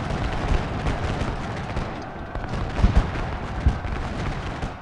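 Muffled gunfire and booming artillery from a Gettysburg battle in Ultimate General: Gettysburg, with a dense, rumbling bed of battle noise and several louder thumps near the end.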